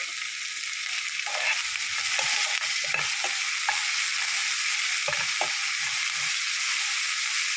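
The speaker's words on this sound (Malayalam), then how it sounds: "സബോള ഒന്ന് ഇളക്കി സബോള ഒന്ന് വഴഞ്ഞു വരുമ്പോഴത്തേക്ക്" Onions sautéing in a pan for a Kerala leaf stir-fry, a soft continuous sizzle with occasional scraping stirs and clinks of a spoon, close and without speech.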